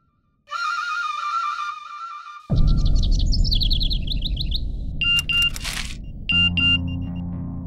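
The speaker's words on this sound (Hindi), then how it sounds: "तुम्हारा फोन बज रहा है" A mobile phone rings with a chirpy electronic ringtone of bird-like trills and beeping tones, joined midway by a loud broadband rumble that continues underneath to the end.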